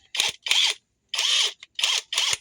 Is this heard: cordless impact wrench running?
yes